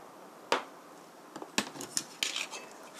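A tuna croquette mixture is stirred in a bowl with a utensil, giving a few sharp scraping clinks against the bowl over a quiet background.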